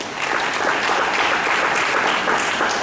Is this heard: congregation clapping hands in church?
yes